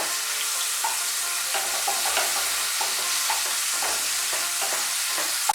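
Tomatoes sizzle steadily in a hot pan while being stirred for rui posto, with soft scraping and clinking strokes scattered over the constant frying hiss, close and unaccompanied by voices.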